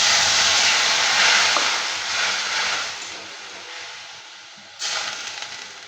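Water poured into a hot pan of mango chutney hisses loudly and close, easing off after a few seconds before a second short burst of sizzling steam.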